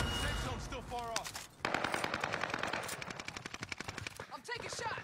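Rapid bursts of automatic gunfire and single shots crackle through a battle royale video game fight, loud and nearly continuous with a brief pause midway, while a voice talks over the shooting.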